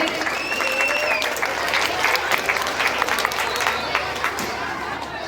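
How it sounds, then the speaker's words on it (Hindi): Loud applause from a school crowd at an Independence Day celebration as a police officer is honoured, dense sustained clapping with faint chatter and a few voices mixed in. "एक बार जोरदार तालियों के साथ इनका स्वागत करें।"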